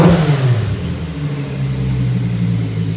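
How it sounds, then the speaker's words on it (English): A Nissan Z engine running without its muffler and resonator, a loud close rev that rises quickly then settles into a droning, slightly falling exhaust note, with no talk. "let's hear it rev"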